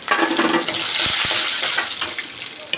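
Close-up sizzling and crackling of cashews frying in ghee, with a couple of sharp knocks and stirring scrapes of a utensil against the pan.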